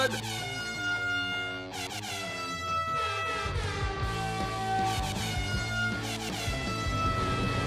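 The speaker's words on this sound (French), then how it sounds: "Que sonnent les klaxons?" Monster truck fans' air horns blare at a televised monster truck challenge, several loud sustained tones overlapping and layering into a continuous honking chorus that runs throughout.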